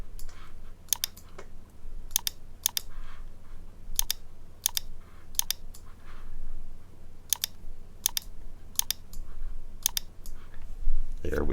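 Crisp, isolated clicks from a computer keyboard, tapped one at a time at an irregular pace over a low steady hum, close and fairly clear, with no speech.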